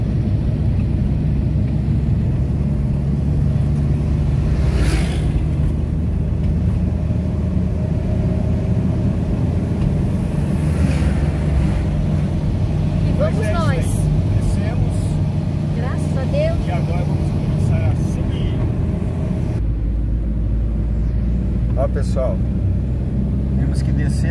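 A car rolls downhill in second gear with the engine braking and no brakes applied, on a road trip toward Mato Grosso, giving a steady loud rumble throughout, with voices talking over it.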